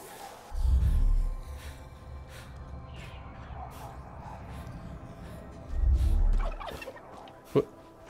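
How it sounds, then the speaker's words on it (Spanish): Turkey gobbling in the video game Far Cry 5, two loud gobble bursts a few seconds apart over quiet outdoor game ambience, followed by a short sharp call near the end. "Ahora un pavo. Pavo loco. El pavo loco."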